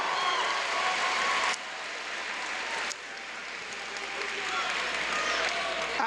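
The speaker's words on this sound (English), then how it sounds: "give that same sort of energy, that same round of applause" A crowd at a Special Olympics closing ceremony applauding in a dense, sustained wash of clapping, loud and continuous, with abrupt level drops partway through.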